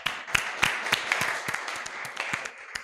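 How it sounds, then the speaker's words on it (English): Sparse, uneven hand claps from a small audience at a youth event, individual sharp claps scattered irregularly and fading toward the end. "Another round of applause."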